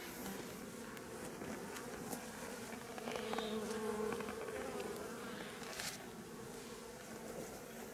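Honeybees from a strong, populous colony hum steadily on the hive's landing board, a dense close buzz with no voices and a slightly louder swell partway through.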